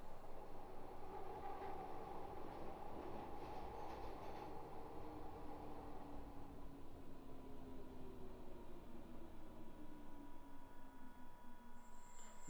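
A Glasgow Subway train moves slowly along the track with a steady rumbling drone and faint rising and falling motor whine, heard from inside the cab at low level throughout.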